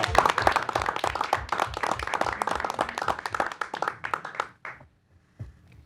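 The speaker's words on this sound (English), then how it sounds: "applause." A round of applause from the attendees at a school committee meeting, dense clapping that holds steady and then thins out into a few scattered claps before stopping.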